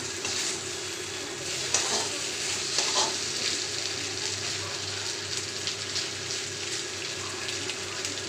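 Muri ghonto sizzles in ghee over a high flame, a steady close hiss broken by scattered scrapes and clinks of stirring, with no talking.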